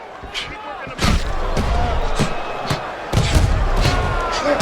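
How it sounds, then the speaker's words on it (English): Heavy punches, including an uppercut, land in a heavyweight boxing bout between Joe Joyce and Dillian Whyte, a couple of dull thuds standing out over a loud, constant arena crowd roar. "White's crushed by a huge uppercut."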